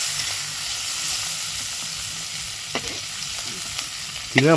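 Shrimp frying in hot oil in a pan, a steady close sizzle with crackling throughout and a few sharper stirring scrapes and clinks near the end.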